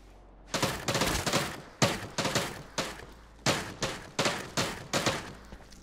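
Gunfire from the space survival video game Memories of Mars: eight loud, sharp bursts of shots in rapid clusters, each decaying quickly, with no talk over them.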